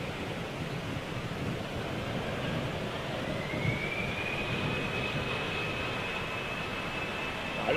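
A Boeing 747 jumbo jet at Manchester Airport, a distant, fairly faint rushing engine roar with a thin rising whine, steady like surf in the background.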